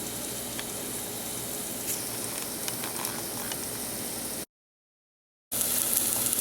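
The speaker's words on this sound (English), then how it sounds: "Onions and garlic. Let it cook." Onions and garlic in olive oil sizzle and hiss steadily in a hot pan, a close, continuous frying sound broken by a second of silence before resuming.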